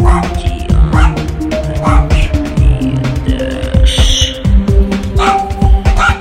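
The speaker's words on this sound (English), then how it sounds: "Stop barking for Christ's sake!" A dog barks over and over, loud and close, in a quick uneven rhythm above a steady low hum.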